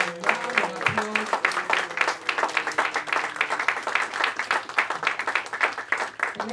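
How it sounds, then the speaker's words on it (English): A conference audience applauds panelists at a policy and legislation session, with dense, steady clapping from many hands sustained for several seconds at close range. "Can we give our panelists a round of applause?"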